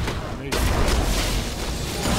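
Bomb explosions in the video game League of Legends, played as Zilean support, booming in a dense burst of blasts and rumbling over game effects, with excited voices under them.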